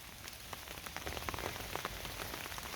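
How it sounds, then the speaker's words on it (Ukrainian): Steady rain patters on a surface nearby, a soft continuous hiss dotted with small individual drop taps. "Ой, як добре, що прийшов дощ"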